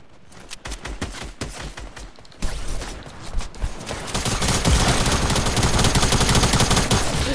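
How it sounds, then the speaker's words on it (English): Dense SMG and assault rifle fire in Fortnite: rapid, crackling automatic bursts that build into a nearly continuous, loud barrage of overlapping shots from several weapons. "I'm being sprayed by one person with a tag SMG and seven other people with an AR"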